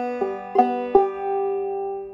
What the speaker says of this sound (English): So the motion, a regular drop thumb would sound like this.